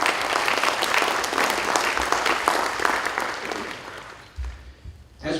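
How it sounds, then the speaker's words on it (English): Sustained applause from a crowd at a Senate study committee hearing on school safety in Chamblee, Georgia, steady clapping that tapers off near the end, with a few low thumps. "So please give them a round of applause."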